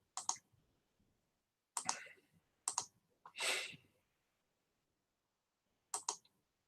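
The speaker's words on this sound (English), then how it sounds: "Clicking the wrong button" Computer mouse clicks, in sharp close double and single clicks with pauses in a quiet room, plus one brief softer rustle.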